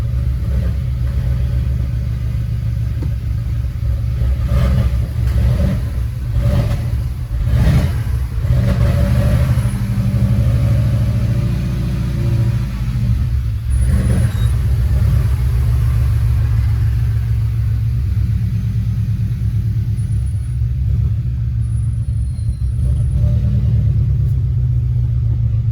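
An Audi A5 engine idling steadily as the car backs out of a garage, a loud, constant low rumble close by with slight swells in revs and faint clicks and creaks on top, and no talking.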